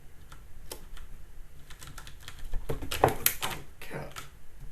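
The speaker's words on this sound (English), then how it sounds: "Please don't walk on my keyboard." A cat steps across a computer keyboard, sending out soft scattered key clicks that grow into a denser cluster of presses midway, near and fairly quiet, with no talk.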